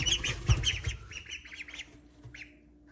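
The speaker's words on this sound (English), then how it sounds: "There's the ducks. They're making all that noise." Young ducks squawk and peep in a noisy, overlapping chorus nearby, loud at first and thinning out toward a few scattered calls.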